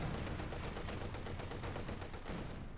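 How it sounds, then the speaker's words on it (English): In Company of Heroes 2, a 45mm gun fires amid a dense, continuous clatter of battle gunfire that fills the whole stretch, loud and unbroken with no clear pauses. "Striking at the centre there with its 45mm gun, tearing into the fascists."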